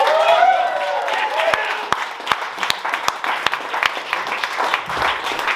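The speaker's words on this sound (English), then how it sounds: "clapping sound" An audience at a graduation comedy show applauds a speaker with scattered, sharp individual claps over a murmuring crowd. A voice speaks near the start and the clapping thins out toward the end.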